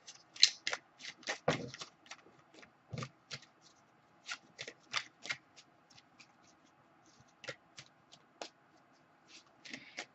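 Tarot cards are shuffled by hand, with quick riffling bursts and soft card taps in an irregular rhythm, close and fairly quiet, alone without speech.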